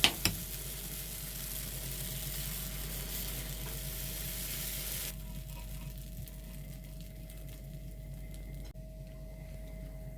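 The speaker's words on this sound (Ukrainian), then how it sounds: "і потім на сковорідку на суху смажити наші оладки." Pancakes fry in a dry pan with a soft, steady sizzle that drops noticeably quieter partway through.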